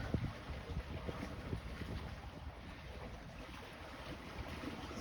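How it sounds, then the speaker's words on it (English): Sailboat running under headsail only in about six knots of breeze off the Bahamas, making roughly 3.5 knots; steady wind rush and water wash fill the whole stretch, moderately loud and continuous with no voices. "sailing with our headsail only"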